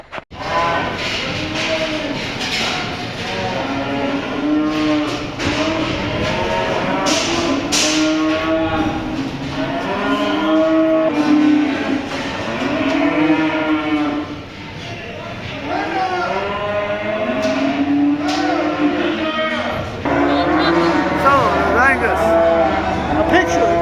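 Cattle at a livestock mart mooing and lowing repeatedly, many overlapping calls close and loud, with people talking in the background throughout.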